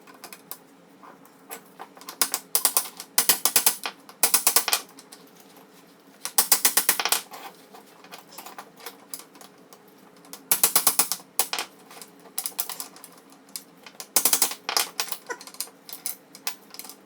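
Coil spring on a Toyota Tacoma front shock being compressed with a ratcheting spring compressor, heard as repeated bursts of close, loud metallic ratchet clicks separated by short pauses.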